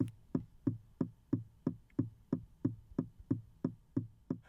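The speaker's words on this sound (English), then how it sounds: "the sound of the turn signals" Aston Martin DBX turn signal clicking in a steady, even rhythm, about three ticks per second, each a sharp close tick with a short hollow decay, alone and fairly quiet inside the cabin.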